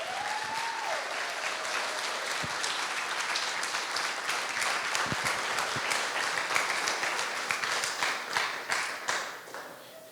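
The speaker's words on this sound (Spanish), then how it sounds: "Cuántos rinden un fuerte aplauso al Señor" A church congregation gives a strong round of applause, dense clapping that runs steadily for about ten seconds before thinning out toward the end.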